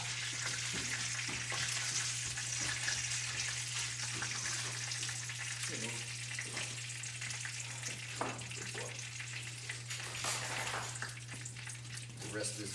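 Bacon fries in a pan with a continuous close crackling sizzle, mixed with light scraping and spatters, over a low steady electrical hum.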